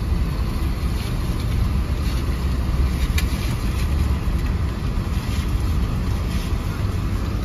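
Wind blusters across Pendine beach, a continuous low roar buffeting the microphone with no break for the whole stretch.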